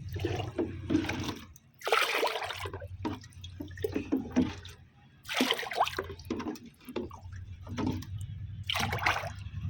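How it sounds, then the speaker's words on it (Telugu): Water pours and splashes into a container in several separate bursts, close by, over a low steady hum. "ఈ వాటర్ మొత్తాన్ని కూడా ఇందులో యాడ్ చేసేస్తాను"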